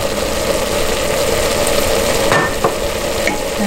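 Chili stirred in a pot after Worcestershire sauce is added, a continuous close sizzle-like hiss with a couple of faint scraping taps.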